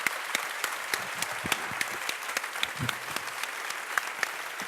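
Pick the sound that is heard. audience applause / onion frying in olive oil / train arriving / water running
audience applause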